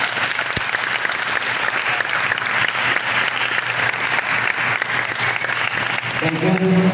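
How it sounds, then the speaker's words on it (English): An audience at a school moving-up and commencement ceremony applauds in a dense, steady roar of clapping that runs loud and unbroken throughout. "A round of applause."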